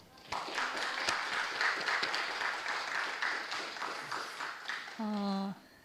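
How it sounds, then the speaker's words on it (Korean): A crowd claps steadily for several seconds at a church worship meeting, a dense, even applause indoors, ending as a voice begins speaking. "자매님에게 더 한 번 더 박수 보내주세요."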